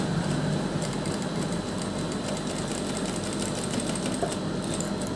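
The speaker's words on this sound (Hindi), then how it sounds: "सिलाई लगाते हुए देखिए किनारे किनारे पर सिलाई लगा देंगे" A sewing machine runs steadily while stitching along the edge of a sleeve strip, a continuous close mechanical whir that holds for several seconds with no pauses.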